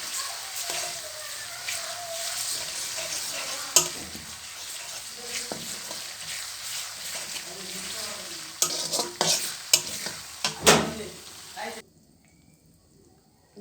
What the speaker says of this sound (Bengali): আদা রসুনের পেস্টটাকে মরিচের সাথে একটু এভাবে কষিয়ে নেব।